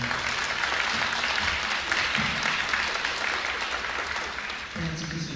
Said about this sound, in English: Make it a round of applause for our awesome panel.